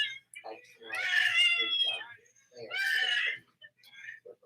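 A cat moans and meows in the background, two long drawn-out wails with shorter cries in between, fairly close and clear.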